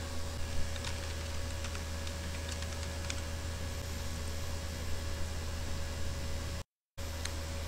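Login email and password being typed on a computer keyboard: a steady run of light key clicks over a constant low electrical hum, with a brief dropout near the end.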